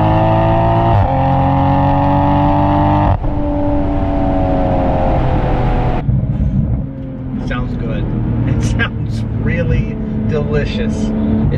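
2020+ Toyota Supra GR with an aftermarket exhaust revving up in loud, deep surges that rise in pitch, then dropping back toward idle with crackling pops on the overrun.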